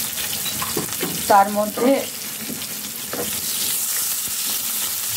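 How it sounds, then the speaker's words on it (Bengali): Onions sizzle steadily in hot oil in a pan, lightly fried for a shahi roast, with a brief stir and a short spoken phrase midway over the constant crackle. "পেঁয়াজটা অত লাল করে ভাজবো না, জাস্ট কাঁচা কাঁচা ভাবটা একটু গেলেই হবে"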